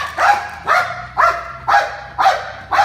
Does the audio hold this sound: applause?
no